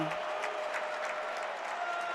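A basketball arena crowd at an NCAA men's tournament Sweet 16 game between Michigan and Alabama claps and cheers in a steady, dense wash of applause, with a commentator's voice faintly underneath.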